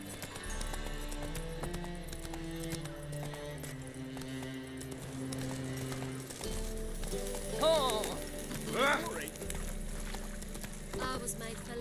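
Hooves of the horse Roach from The Witcher 3 clip-clop at a steady gallop under game music, with brief voice sounds partway through.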